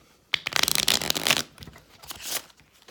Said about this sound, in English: forgive my terrible shuffling